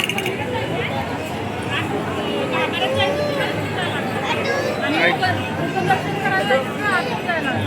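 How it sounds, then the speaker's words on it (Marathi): A dense crowd chatters and murmurs in a packed queue at the Mahalaxmi temple in Kolhapur, many overlapping voices forming a steady, close hubbub throughout. "खूप जास्त गर्दी आहे."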